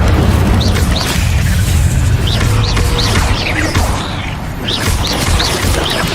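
Incendio fire spell cast in Hogwarts Legacy, a loud rumbling boom with crackling bursts and whooshing flares over dense game ambience and music.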